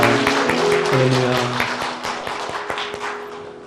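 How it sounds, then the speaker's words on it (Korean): Congregation applause at a church service: broadband clapping from the congregation, fairly loud and close, with sustained chord-like tones running underneath throughout and a voice heard briefly. "이곳에 불러주신 하나님께 영광의 박수를 드리겠습니다"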